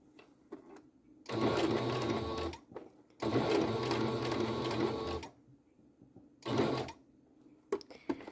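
A sewing machine stitches a small fabric bag for a 1/4-scale ball-jointed doll, running in three separate bursts of rapid needle chatter, two long and one short, with quiet handling clicks in the pauses.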